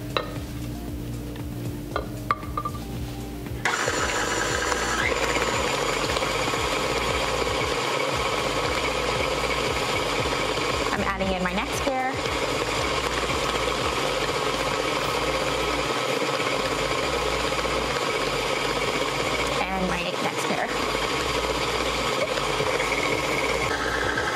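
A stand mixer beats cake batter as egg yolks are added two at a time for an Italian rainbow cookie cake, switching on after a few quiet seconds into a loud, steady whir with brief clanks of the bowl.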